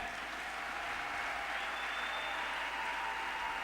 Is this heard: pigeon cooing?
no